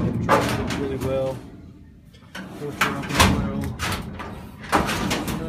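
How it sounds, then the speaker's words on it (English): Drawers of a five-drawer 42-inch metal lateral file cabinet, with a small dent on one side, slide open and shut with sliding rumbles and knocks, mixed under someone talking nearby. "See how the drawers open?"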